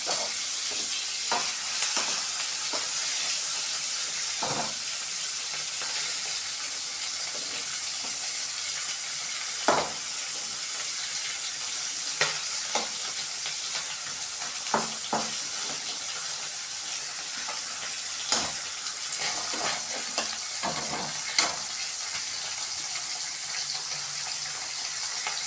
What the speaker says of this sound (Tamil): இப்போ அதை வறுக்கிறதுக்கு நம்ம என்ன பண்ணுறோம்னா கொஞ்சம் ஆயில் வந்து ஊற்றிக்கிட்டோம்.